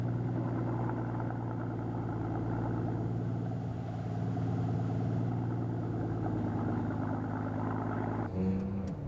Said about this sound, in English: And we're ready to start this car up.